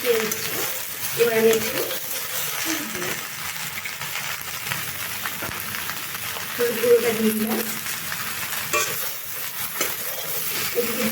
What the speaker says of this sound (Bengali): এবার এটিকে ভালোভাবে বেশ ভালোভাবে একটু ভেজে নিতে হবে